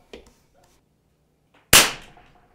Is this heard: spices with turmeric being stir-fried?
no